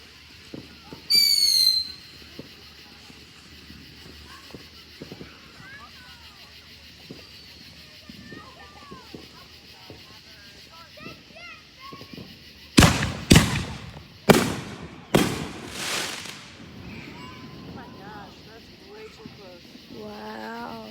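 A family backyard fireworks grand finale: a run of loud, sharp bangs bursts in quick succession after a quieter stretch of distant pops and whistles, with people talking throughout.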